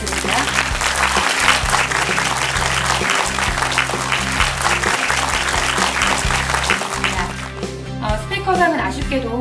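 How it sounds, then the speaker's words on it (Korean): Audience applause at a national university debate competition award ceremony: steady, loud clapping over a low hum, fading into speech near the end. "큰 박수 부탁드립니다."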